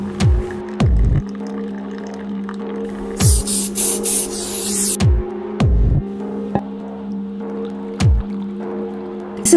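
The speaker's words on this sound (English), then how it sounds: "spray it thoroughly with rubbing alcohol, and pour in the next layer." Rubbing alcohol sprayed onto setting soap in bursts from a pump sprayer, a few sharp hissing puffs over a steady background hum with soft thuds.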